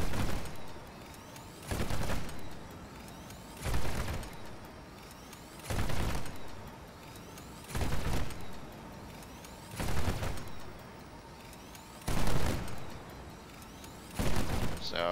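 Single heavy shots from a semi-automatic vehicle-mounted gun in the Crossout combat game, fired about every two seconds in a steady, evenly spaced rhythm, each a loud booming blast over a low rumbling background.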